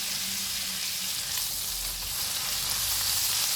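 Steak frying in a generous amount of butter in a pan gives a steady, close, even sizzle with faint stirring, and no one speaks.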